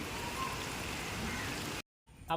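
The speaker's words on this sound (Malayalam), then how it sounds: "മഴ പെയ്ത്" Steady rain hisses down evenly for a couple of seconds, then stops abruptly before a faint sound at the end.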